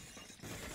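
Window glass shatters in Counter-Strike: Global Offensive, a sudden sharp burst of breaking glass that swells briefly and stays loud to the end of the moment.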